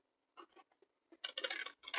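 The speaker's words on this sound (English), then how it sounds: "So you're going to take your scissors," Scissors trimming a corner from folded paper scraps or book pages for a pocket, making a few quick, crisp snips close by, followed by a longer rustling run of cutting.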